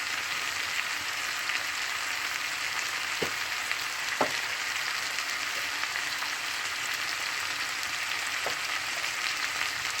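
Ginger and garlic sizzling in hot oil in a cooking pot, a steady close frying hiss with a few sharp clicks and pops, no voices.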